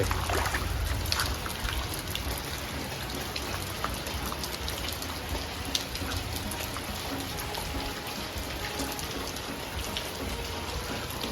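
Heavy rain pours steadily, a dense hiss of drops pattering on surfaces with no letup throughout.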